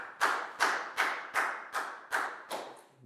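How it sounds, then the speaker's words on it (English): Claps ring out in a primary school science class, a slow, evenly spaced series of about seven loud, resonant hits that gradually fade, sounding more like one or a few people clapping together than a full room. "big round of applause for Nadia"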